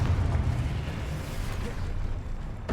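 A Confringo fire spell blast in Hogwarts Legacy roars as a sustained, fiery rumble for nearly three seconds, with a brief sharp burst near the end.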